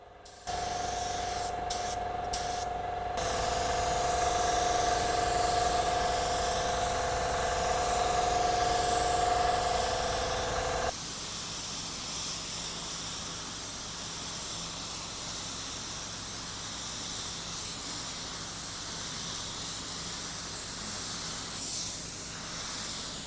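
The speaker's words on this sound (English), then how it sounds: "set up your gun the way you want it, do a test spray out" Automotive spray gun laying clear coat on a car panel, a loud continuous airy hiss that holds steady for long stretches and then drops to a softer hiss as the spraying continues.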